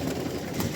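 Pigeons coo in a soft, continuous murmur at a breeding loft, a low rumbling chorus under steady background noise, with no voices.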